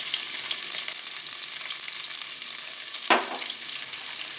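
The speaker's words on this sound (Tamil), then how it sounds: "கொஞ்சம் கல்லுப்பு எப்போதுமே சேர்த்துக்கோங்க வெங்காயம் வதக்கிறப்ப" Onion fries with a pinch of rock salt in a pan for Madurai-style mutton curry: a dense, even sizzle runs close and loud throughout, broken once by a short scrape of a spatula.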